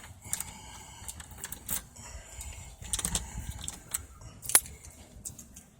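Small set of house keys jangling in a key compartment, with several brief metallic clinks and rattles, close and fairly quiet against a soft background.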